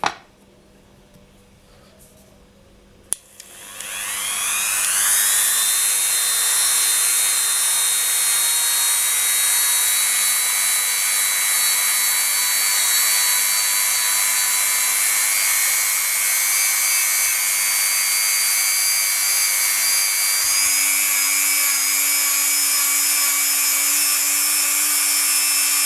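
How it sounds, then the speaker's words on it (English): A buffing wheel motor spins up after a quiet start and runs steadily while polishing a polymer clay bezel around a stone cabochon, giving a loud continuous whine with a faint pitch shift near the end and no speech. "we're going to just bring over our buffing wheel. So let me just get that. And we're going to give it a buff."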